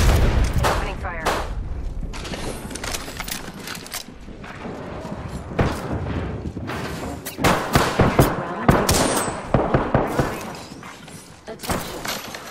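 Dense, rapid gunfire crackles in irregular bursts of sharp cracks and thuds for several seconds, loud and close, with intermittent voices mixed in.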